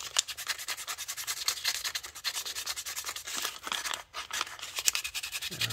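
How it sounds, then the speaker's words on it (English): Steady back-and-forth sanding of a plastic U.S.S. Enterprise 1:650 scale model part, a close, rhythmic raspy scratching in rapid regular strokes throughout, no talking. "sand this down a little bit more"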